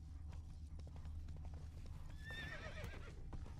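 Witcher 3 horse Roach galloping, with rapid rhythmic hoof clip-clops and a bright, wavering neigh partway through, close and steady.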